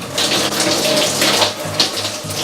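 Water runs steadily from a bathroom tap during hair washing with shampoo, a loud continuous splashing gush with irregular surges as it hits hair and basin.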